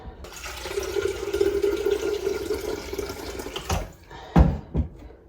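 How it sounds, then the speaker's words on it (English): Tap water runs steadily into a kettle for several seconds, then stops, followed by a few clunks and knocks nearby. "so we get the kettle on"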